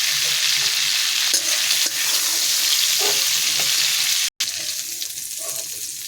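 Small shrimp fry in hot oil, giving a steady bright sizzle with occasional stirring scrapes and one brief cut in the sound.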